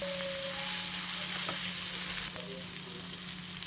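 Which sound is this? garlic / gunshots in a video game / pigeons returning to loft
garlic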